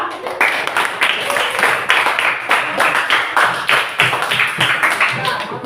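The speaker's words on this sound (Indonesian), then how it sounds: "tepuk tangan dulu untuk kelas kelompok 2" A classroom group claps along in a steady rhythm, loud and close, continuing for several seconds.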